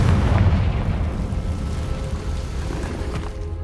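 A Confringo blasting spell from Hogwarts Legacy detonates in a loud, booming explosion whose heavy rumble tails off over a few seconds, with no voices heard.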